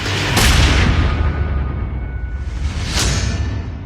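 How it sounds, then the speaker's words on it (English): Gunfire during an attack, with two sharp broadband bursts about two and a half seconds apart over a loud, rumbling, noisy background, no voices heard. "That's when she heard the gunshot."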